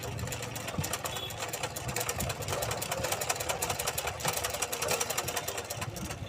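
A sewing machine runs steadily while stitching thread, a fast even mechanical chatter with dense rapid clicks over a low motor hum, fairly quiet and continuous.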